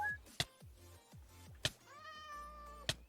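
A cat in a Minecraft modded game gives a long drawn meow among sharp, evenly spaced clicks and short low thumps, all fairly quiet and close, with no talk.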